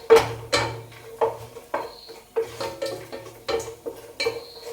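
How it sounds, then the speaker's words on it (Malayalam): Utensil scraping and stirring in a pan where nuts and raisins fry in oil, giving repeated clattery strokes at a steady rhythm with a faint sizzle underneath, close and fairly quiet. "അപ്പം ആ എണ്ണയ്ക്കകത്ത് നമുക്ക് നട്ട്സ് മുന്തിരിയും കൂടെ വറുത്തെടുക്കാം."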